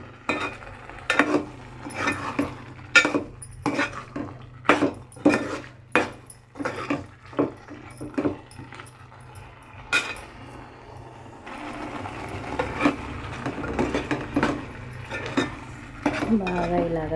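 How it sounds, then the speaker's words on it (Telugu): Curry being mixed into gravy in a metal pot with a spoon, giving a run of loud irregular clanks and scrapes against the pot, then a softer sizzling bubble under continued stirring, close by. "మా గ్రేవీ ఎంత కావాలో అంత చూసుకొని వేసుకోవాలి. బాగా కలుపుకోండి."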